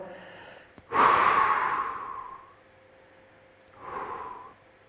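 Heavy breathing during a Swiss ball core exercise, with a loud forceful exhale followed by a softer second breath a few seconds later, close and with no voices.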